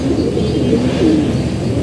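Pet pigeons cooing steadily at close range, soft low throaty calls repeating without pause, with no voices over them.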